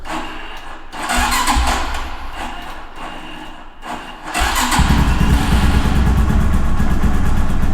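A Falcon Freedom 250 motorcycle that had sat unused for a long time cranks and sputters for a few seconds, then catches and settles into a loud, steady close-up idle.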